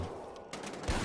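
Video game gunfire from Wolfenstein: The Old Blood, a short muffled burst of shots under busy, noisy game sound, with a heavier thump near the end.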